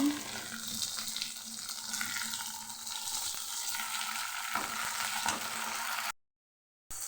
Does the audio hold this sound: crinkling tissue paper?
no